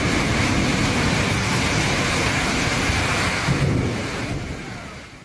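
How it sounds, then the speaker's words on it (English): Typhoon Podul batters Tainan, Taiwan with a dense, roaring wash of heavy rain and strong wind, loud and steady throughout before easing slightly at the end. "The storm brought strong winds, heavy rainfall, and caused widespread disruptions."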